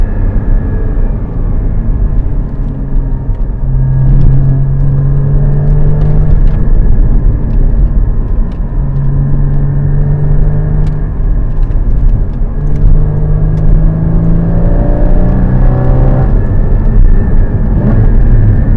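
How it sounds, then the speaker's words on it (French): The flat-six engine of a 981 Porsche Cayman GT4 drones loudly and steadily from inside the cabin while driving, with a deep rumble and engine tones rising through repeated gear pulls. "il y a le son du flat 6 qui est juste envoûtant"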